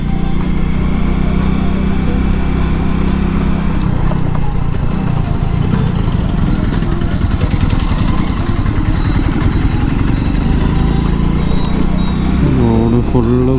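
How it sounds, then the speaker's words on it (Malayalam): Engine of an old motorbike running steadily throughout a ride, a loud continuous low drone with a rising whine near the end, along a rough road. "ഞാനിപ്പോൾ ഓടിക്കുന്നത് എൻ്റെ പഴയ ബൈക്കിലാണ്"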